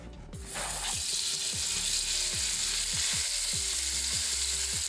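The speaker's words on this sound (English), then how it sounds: "to the oil, she's gonna add the chopped up pork chop" Chopped pork chop hits about two tablespoons of hot olive oil in a pan and sizzles loudly and steadily, with a burst of crackle at the start and light stirring scrapes underneath, no talking.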